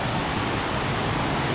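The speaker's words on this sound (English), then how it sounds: "There's another waterfall right here by the bridge." A waterfall beside a bridge on the Falls Trail at Ricketts Glen in Benton, Pennsylvania, pours in a steady, dense broadband roar that fills the whole short stretch at an even level, with no voices.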